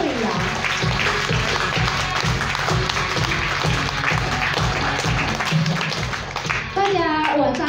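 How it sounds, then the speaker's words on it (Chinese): An audience at an indoor testimony gathering applauds with steady, rhythmic clapping that carries on throughout, with voices talking over it near the end. "想要借大家的掌声邀请我们的钻石二星刘慧阳。"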